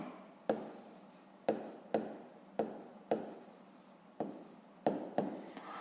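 Close, quiet pen-on-paper writing during a fifth-grade maths exercise, each stroke a sharp scratchy tap fading into rubbing, spaced irregularly about once a second, with no speech.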